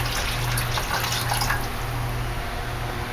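Water, or beef broth, pours steadily into a pot holding a beef roast for pot roast, a continuous close splashing fill with no talking.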